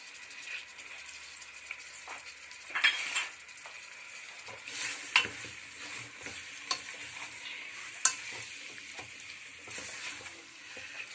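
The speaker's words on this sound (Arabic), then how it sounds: "نقلبوه يتشحر مزيان" Chicken fries in oil while being stirred, with a continuous moderate sizzle punctuated by repeated scraping and clinking of a utensil against the pan at irregular intervals.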